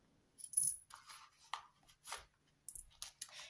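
A few coins are tipped out of a paper budget envelope, landing close by in several quick, light metallic clinks and jingles with brief pauses between them.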